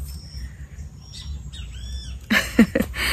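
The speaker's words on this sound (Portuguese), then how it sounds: "Olha a coisa mais linda, minha gente, o canto da BTV." Great kiskadee (bem-te-vi) song outdoors: a few faint whistled calls over a low background rumble, followed by a burst of louder, harsher chirping at the end.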